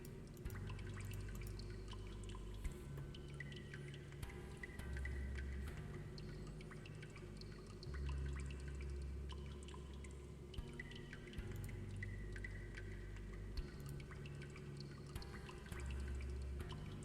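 Water dripping in the Metru Nui Online Game, a steady run of small drips over a continuous low game ambience, moderately quiet and without talk.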